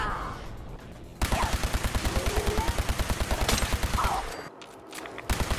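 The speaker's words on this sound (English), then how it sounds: "I'm shooting at mannequins." Rapid automatic gunfire in Fallout 4 as mannequins are shot at, a steady loud stream of shots lasting several seconds with a brief pause before a final burst.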